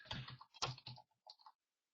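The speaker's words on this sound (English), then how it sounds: "I'll just type it in here." A website address is typed on a computer keyboard in a quiet room: a quick run of close, crisp key clicks, then a short pause and a few final taps.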